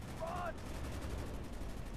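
Gunfire and mortar shooting in the video game Call of Duty Black Ops, a dense rumbling barrage of shots and blasts under game effects, with a brief tonal sound early on and no clear talk.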